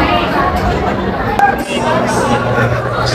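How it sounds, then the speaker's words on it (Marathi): Crowd chatter from a busy meal queue at a temple in Akkalkot or Tuljapur, a steady dense babble of many voices close around, loud and continuous. "जेवायला गर्दी बघा किती आहे"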